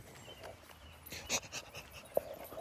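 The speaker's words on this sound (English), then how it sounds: "The dog's coming up behind me." A dog pants close behind in quick, breathy bursts, fairly quiet, with a few soft whimpering or snuffling sounds mixed in.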